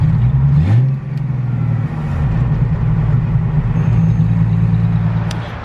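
A Foxbody Mustang with a swapped-in T5 manual transmission revs loud and close after a downshift, the engine note rising briefly and then holding a steady rumble without speech.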